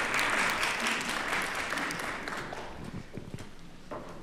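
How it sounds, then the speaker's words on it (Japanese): Concert audience applauding after a live performance in a music festival lecture-concert of traditional and contemporary Japanese music, a dense steady wash of clapping that gradually thins and fades toward the end. "また一度盛大な拍手をお願いいたします。"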